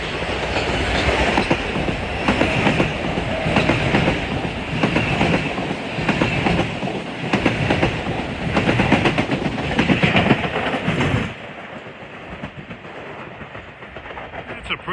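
A long Metro-North commuter train bound for New Canaan on the Harlem Line rolls past close by, loud rumbling with rhythmic wheel clatter for about eleven seconds before the sound drops away sharply as it clears.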